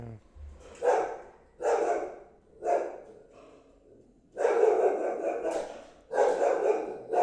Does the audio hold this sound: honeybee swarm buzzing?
no